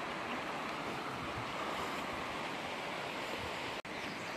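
Rushing river water beside a waterfall on a hiking trail, a steady dense broadband roar that stays loud and constant throughout, close to the listener, with one brief dropout near the end and no talking.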